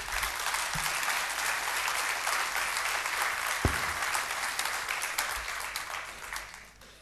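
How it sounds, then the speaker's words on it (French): An audience gives a steady, dense round of applause after a presentation, moderately distant and sustained for several seconds before tapering off at the end. "Je pense qu'on peut l'applaudir, hein."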